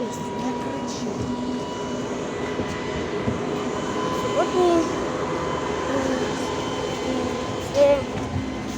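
Interior of a Škoda 14Tr trolleybus during a ride, a steady motor hum and rolling rumble with occasional faint whines and knocks, while someone talks over it.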